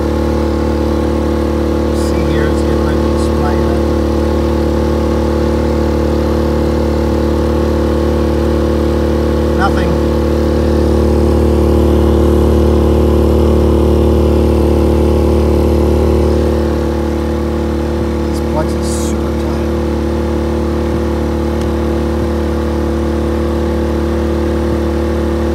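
Generac iQ3500 inverter generator running steadily under an electrical load, a loud, close, continuous engine drone with a strong steady hum that swells slightly mid-way before settling back, with a few faint clicks over it.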